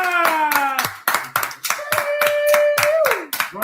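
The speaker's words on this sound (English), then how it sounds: "let's give a round of applause to Shadow real quick" A few people on a podcast clap in a round of applause, close and distinct claps in an uneven rhythm, while a sustained whistle or vocal tone rises and glides over them.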